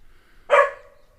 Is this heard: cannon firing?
no